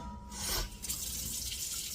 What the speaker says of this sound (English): So I'm gonna rinse my fish nicely